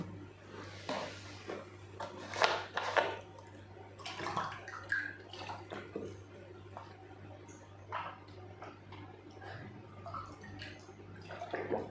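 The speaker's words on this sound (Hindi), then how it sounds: "पानी पी लेता हूँ जब तक आप इसका जवाब दो।" A teacher pauses mid-lesson to drink water, with soft splashes, clinks and small swallowing sounds scattered over a steady low electrical hum in a quiet room.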